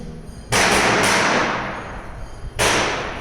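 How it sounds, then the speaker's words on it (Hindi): Firecrackers bursting outdoors during Dussehra celebrations, two sharp loud cracks a couple of seconds apart, each followed by a rumbling decay. "पटाखे की आवाज सुनाई दे रही होगी, आप दशहरा है, पटाखे उड़े जा रहे हैं आज के दिन"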